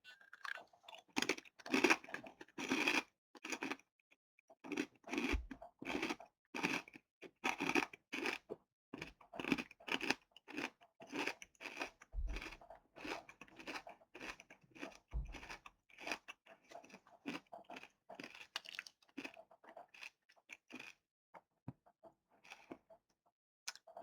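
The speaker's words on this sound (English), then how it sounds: "it's really nice and crunchy. The crunch is really satisfying on it." Close, crisp crunching of a rice cracker (okaki or kawara senbei) being chewed, a steady rhythm of bites and chews with quiet gaps, no talking.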